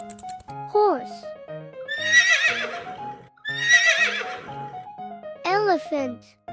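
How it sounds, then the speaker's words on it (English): Horse neighing in a children's animal-sound sequence: two loud, close whinnies with falling, quavering pitch, framed by brief voiced calls. "Horse."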